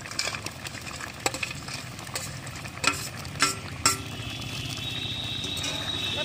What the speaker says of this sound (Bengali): এবার আমি ফুটন্ত ঝোলের উপরে ভেজে রাখা মাছ ও ভেজে রাখা বড়িগুলো দিয়ে দেবো।